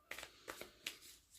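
Tarot cards being shuffled by hand, a few quick papery riffles and slaps in separate bursts, close and soft in a quiet room.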